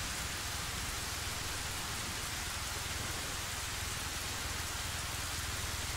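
Steady, heavy rain hisses across a military video game scene, a dense, even wash of droplets with a low rumble underneath, continuous and without talk.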